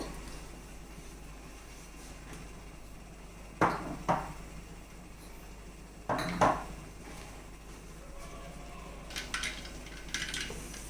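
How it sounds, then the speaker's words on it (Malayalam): Mustard and cumin seeds pop under a lid in a pan, heard as a low steady background hum broken by a few scattered sharp taps and clustered bursts of spluttering, fairly faint. "കടുകും ജീരകവും ഒന്ന് പൊട്ടി വരട്ടെ."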